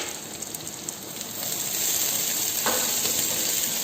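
Carrots and capsicum sizzle steadily in a hot pan for white sauce pasta, a dense continuous hiss that swells slightly louder partway through, with no voices.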